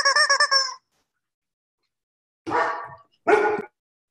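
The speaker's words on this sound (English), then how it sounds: "When you did the squeaker, Punam, you got my dog's bark" A dog barking in two short sharp bursts after a quick series of high squeaks from a squeaky toy, close and clear with silence between.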